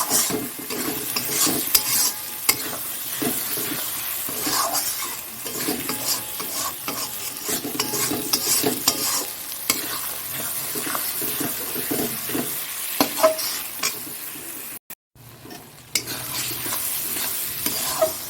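Chopped tomato is stirred and sautéed in a pan, mixed with fried aromatics, as a base for mutton kosha. Steady sizzling sits under a constant scrape of the spoon, which stops briefly near the end and then picks up again.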